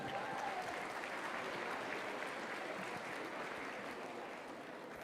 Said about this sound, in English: Give these kids a round of applause.